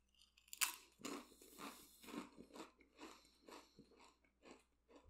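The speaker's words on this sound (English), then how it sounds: "Hopefully you heard that little crunch noise, the little, when I took that first bite." A crisp bite into a crunchy fried tortilla chip followed by steady, close-up chewing crunches in a rhythmic series, quiet but distinct.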